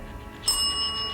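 A small bell rings once during a ghost investigation, a sudden clear ding with a thin sustained ring in an otherwise quiet room.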